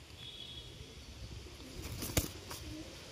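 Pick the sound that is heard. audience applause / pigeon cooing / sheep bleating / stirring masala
pigeon cooing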